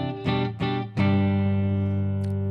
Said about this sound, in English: here's the sound of the Fender with the neck pickup